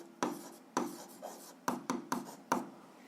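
A pen scratches out a short algebra answer on paper, several quick separate strokes tapping and scraping against a quiet background.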